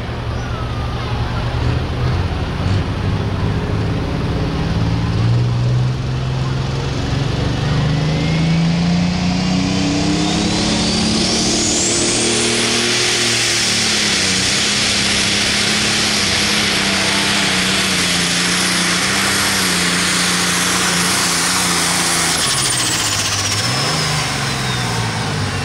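A pulling tractor roars down the track at an OSTPA truck and tractor pull at the Greene County Fair in Xenia, Ohio, a loud, unbroken engine howl whose pitch climbs, holds and dips over the long run.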